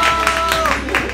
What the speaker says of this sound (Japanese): 拍手でかすぎて